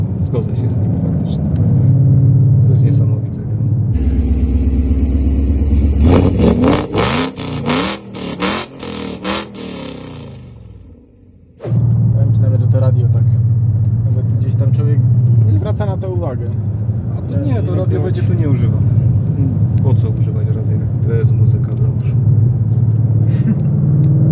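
A Ford Mustang GT with a very loud exhaust rumbles nearby, a deep steady idle broken by a few sharp revs and roaring bursts, with someone talking over it.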